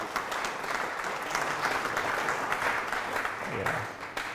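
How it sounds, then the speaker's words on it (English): An audience applauds at a college diploma ceremony, steady moderate clapping across the hall for several seconds, with a low voice murmuring underneath near the end. "Round of applause first."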